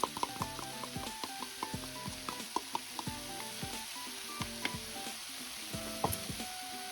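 Spring onion (leaf onion) bulbs stir-fried in a pan, an even close sizzle with repeated light clicks and taps of a utensil against the pan in an irregular rhythm, no talk.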